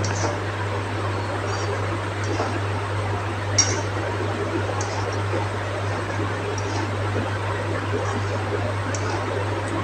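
Fried rice with beans and carrots is stirred in a pan, giving a steady close hiss over a low constant hum, with scattered light utensil clinks and one sharper clink partway through; no voices.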